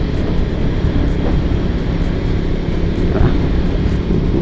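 Suzuki Raider FI 150 motorcycle accelerating hard, a loud, steady, close engine roar with wind buffeting throughout and no pause.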